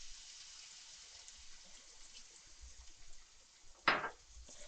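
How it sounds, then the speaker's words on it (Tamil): Water is poured into a pan of cooking yellow pumpkin with turmeric, a brief, fairly loud splash over faint kitchen background noise. "தண்ணி ஊற்றி வச்சிடலாம்."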